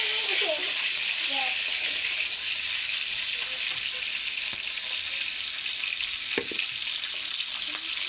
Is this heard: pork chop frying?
yes